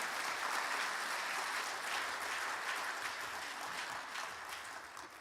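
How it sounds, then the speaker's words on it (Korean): A church congregation applauds to welcome a visiting pastor at a Sunday service, warm sustained clapping throughout the room that gradually softens toward the end. "우리 큰 박수로 환영하도록 하겠습니다."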